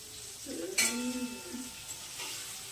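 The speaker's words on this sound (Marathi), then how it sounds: "हे बघा पनीरला मस्तपैकी ना छान डीप फ्राय करायला तिथं." Paneer sizzles as it deep fries in oil, with a short metallic scrape of a utensil against the pan and a faint bubbling hiss underneath.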